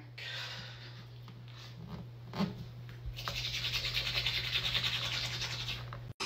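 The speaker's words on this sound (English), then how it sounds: "Thoughts while brushing your teeth in the dark" A toothbrush scrubs teeth in the dark with soft scratchy bristle strokes, quiet at first and then turning into a faster rhythmic brushing for the last few seconds, with a faint hum beneath.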